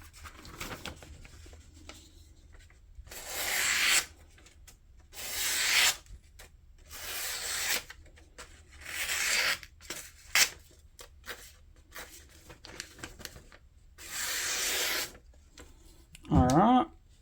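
A Kubey pocket knife blade with 3.1 mm stock cuts through material in several separate rasping strokes, each about a second long, with short pauses between them and a soft scrape near the end, fairly close and quiet.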